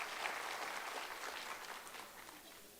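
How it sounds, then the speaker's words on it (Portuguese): Audience applause at a lecture on spiritism, a soft, distant wash of clapping that fades slightly toward the end, with no voices over it. "dar uma salva de palmas"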